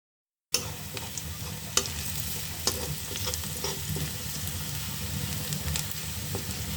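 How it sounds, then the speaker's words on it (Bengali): Onions fry in a pan for a fish bhuna, sizzling steadily and close up with occasional sharp crackles and stirring scrapes throughout. "পেঁয়াজ ভাজি করি"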